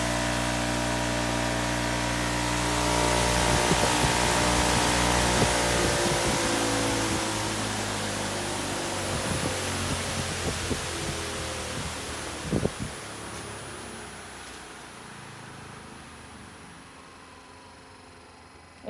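A jet variable speed floor buffer runs steadily at close range, a broad continuous whoosh of rushing air with a faint high whine, softening toward the end as it slows.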